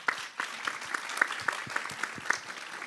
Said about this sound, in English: I think an applause was well in order